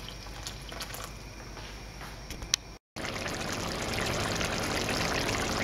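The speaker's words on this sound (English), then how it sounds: "I'm going to add some just boiled water, stop it drying out" Just-boiled water poured into a simmering beef rendang curry, a steady splashing stream that grows fuller after a brief gap, with soft trickling over the bubbling pot and no talk.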